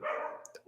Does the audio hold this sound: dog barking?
yes